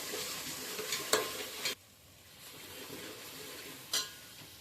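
Red chili powder roasts in oil in a pan for a mutton curry, a faint, soft sizzle broken by a few light spoon clinks and scrapes against the metal.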